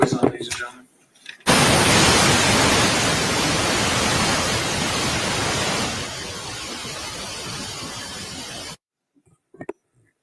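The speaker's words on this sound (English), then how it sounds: "Put the white noise on" Loud, steady white noise plays in a courtroom for about seven seconds, a broadband hiss that starts abruptly after brief murmuring and cuts off sharply into near silence.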